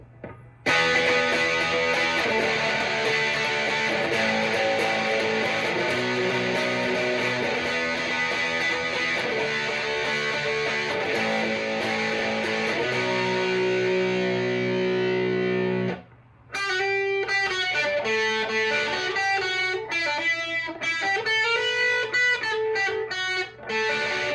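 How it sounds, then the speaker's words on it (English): Heavily distorted electric guitar, a G&L Fullerton Deluxe ASAT Classic on the bridge pickup through a JHS Angry Charlie distortion pedal, plays sustained, saturated chords, pauses briefly, then continues with choppier, rhythmic riffing, loud and close. "Let's get some heavier gain. Back on the bridge pickup"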